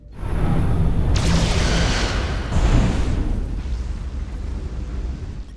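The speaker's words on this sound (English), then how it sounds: "Fire photon torpedoes!" Photon torpedoes fire in the space combat game Star Trek: Resurgence, a loud sustained roar of blasts with a rushing swell near the start and another burst midway, fading slowly toward the end.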